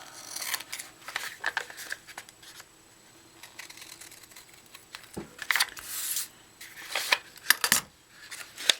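Scissors snip notches into a cardboard toilet paper roll, a few short crisp cuts and rustles of the tube, close and fairly quiet, with pauses and light handling noise between bursts.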